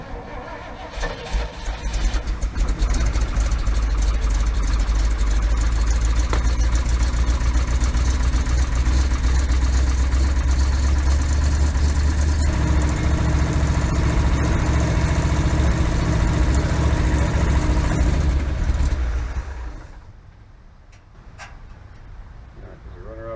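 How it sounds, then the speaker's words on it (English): A 1956 cab-over truck engine that has sat unused for months runs at a steady, loud idle with a slightly rattly, rumbling tone. It then cuts out near the end, leaving quieter background noise. "All right, we fired it up. It's a little rattly"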